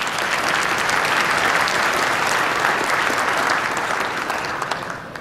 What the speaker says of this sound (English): you deserve a round of applause for your dedication